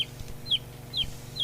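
A backyard chicken clucks four times in short, evenly spaced bursts, moderately close over a low steady hum.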